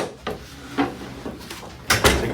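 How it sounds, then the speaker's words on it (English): A door being closed in a chiropractor's treatment room, heard as a few soft wooden knocks and handling clatters, ending in two louder close thumps, near and without talk. "Let's close this door."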